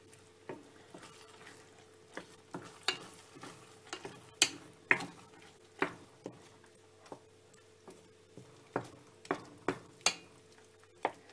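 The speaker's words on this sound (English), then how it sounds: "Stir it in." Ingredients being stirred in a pan for a homemade vegetarian shepherd's pie, with repeated scraping taps of a spoon at a steady, uneven rhythm, close and fairly quiet, with no talking.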